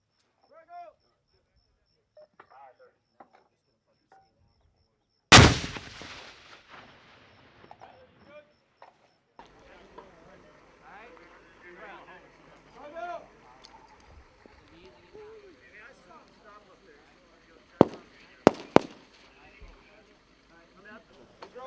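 Live hand grenade detonates during Marine training, a single loud, sharp blast followed by rumbling, with two further sharp cracks later; people talk and shout throughout.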